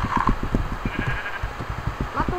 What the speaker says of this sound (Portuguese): Mata ovelha!